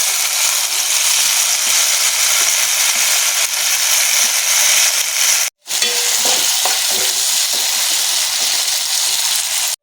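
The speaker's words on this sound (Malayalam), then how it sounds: "ഉരുളക്കിഴങ്ങ് നമുക്ക് വറുത്ത് കോരാം." Potatoes fry in hot oil with a loud, steady crackling sizzle that continues throughout, broken by one brief cut just past the middle.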